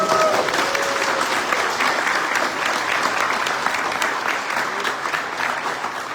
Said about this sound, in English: Big applause now.